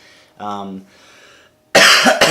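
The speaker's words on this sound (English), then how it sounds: "The cough's got me right now." A voice makes a short sound, then a loud, harsh cough close up followed by a second quick cough.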